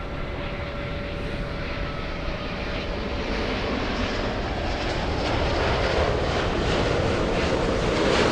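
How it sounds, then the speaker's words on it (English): An airliner arriving from London Heathrow touches down on runway 24 right at LAX, its engines a loud, continuous broadband roar that holds steady and swells slightly toward the end, mixed with wind rumble. "The flight from London Heathrow about to touch down on runway 24 right."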